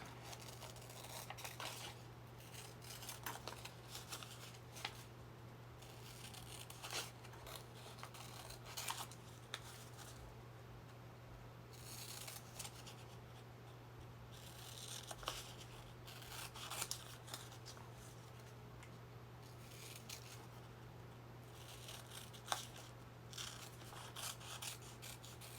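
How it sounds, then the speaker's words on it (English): Scissors snip through tea bag paper while a cross shape is cut out, giving faint, close, irregular cutting and rustling sounds over a low steady hum. "Cut out the shape."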